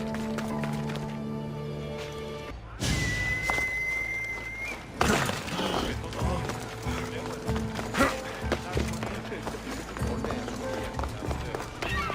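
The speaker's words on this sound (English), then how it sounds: "I could hear your footsteps" Horse hooves clip-clop and footsteps patter in the Greek setting of Assassin's Creed Odyssey, a run of thuds and hoof strikes near and fairly loud, with game voices talking over them.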